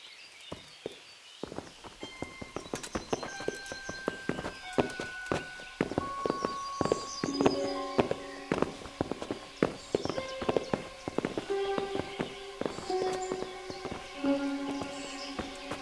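Horse hooves clip-clop in Kingdom Come: Deliverance, a medieval role-playing game, with several animals walking in a steady clattering rhythm that grows busier as they approach, over sustained tonal music.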